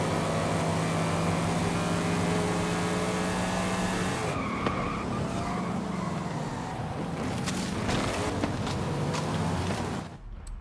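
Cars racing in Forza Horizon 5, including a Viper, McLaren and Porsche, with loud continuous engine roar and tire squeals and skids throughout, ending abruptly, no talking.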